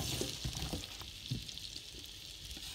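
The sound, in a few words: apples frying in melted butter in a pan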